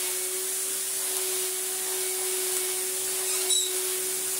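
An Electrolux Slimline Z1165 vacuum cleaner, shown before restoration, runs with a steady airy hiss over a constant low motor hum, close and unbroken with no talk.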